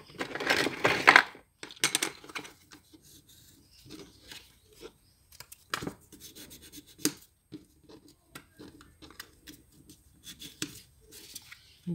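Scrap of paper rubbed along folds to crease them during scrapbooking of an Easter basket, a loud crisp crumpling rustle at the start, then quieter scattered scraping and tapping of paper on a work surface.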